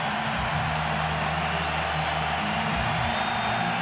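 A football stadium crowd cheers as play comes out of the end zone, a steady wall of roaring voices that stays loud and unbroken, with faint talk underneath.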